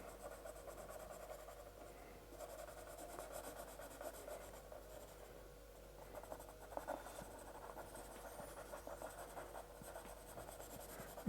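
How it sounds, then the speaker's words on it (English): An HB pencil scribbles quickly across textured bamboo paper, a close, steady scratching rasp that runs on without pause, soft and continuous with a few sharper strokes near the end. "And I'm scribbling away. It's a HB, it's hard, it's black, it moves quickly on the paper."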